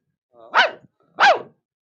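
A dog gives two loud, separate barks close by, about half a second apart, with silence around them.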